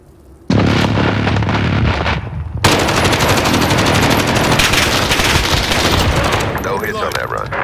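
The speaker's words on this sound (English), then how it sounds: "Precision airstrike available." Precision airstrike in Modern Warfare: after a quiet start, loud sustained gunfire and rumbling explosions erupt, then a second heavier wave of blasts and rattling fire that continues densely, tapering slightly toward the end.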